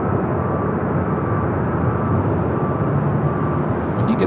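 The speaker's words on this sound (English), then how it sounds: "when you get a little jet blast from that" A jet airliner at LAX roars with engine blast, a broad, steady rumble that holds loud and constant throughout, near and dominant, with no voices heard.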